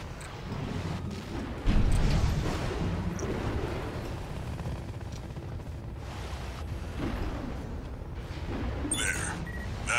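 Heavy artillery fire and explosions in the video game Armored Core 6 form a dense, rumbling battle din, with a big boom near the start and continuous low thunder throughout.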